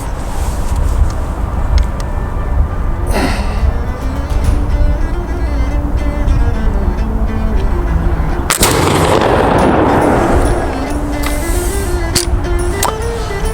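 Pedersoli Brown Bess flintlock musket fired outdoors, two loud sharp reports a few seconds apart, each followed by a rolling boom and rumble, over steady wind and ambient noise.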